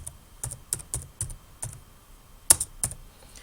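Close, crisp keystrokes on a computer keyboard as an author's surname is entered into a library catalogue search field, about ten irregular taps with a sharper key press near the end, no voices.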